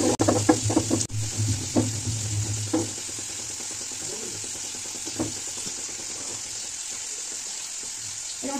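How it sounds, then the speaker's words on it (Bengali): Prawns fry in oil in a home kitchen, a constant sizzling hiss with scattered knocks and clatter of utensils, louder at first, then settling into steady frying with no talk. "চিংড়ি মাছ ভাজা হচ্ছে"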